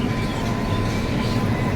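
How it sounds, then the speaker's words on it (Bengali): A passenger train pulls into a station on a Malda to Tarapith trip, a dense, steady rumble of rolling wheels and carriages heard close and loud. "ফাইনালি এখন ট্রেন আসছে।"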